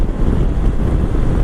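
A 2022 KTM 890 Adventure motorcycle at motorway speed, heard as a brief, loud, rough wind buffet that roars continuously against the rider's helmet, with a low drone underneath.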